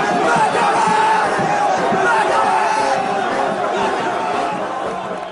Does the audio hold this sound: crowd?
yes